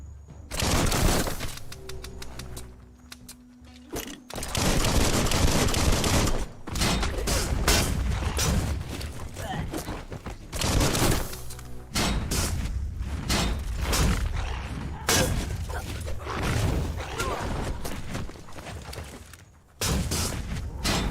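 A bomb-lobbing enemy attacks in Biomutant, filling the scene with repeated loud explosive thumps and bursts of rapid gunfire-like blasts. The heavy, dense combat noise continues almost without a break.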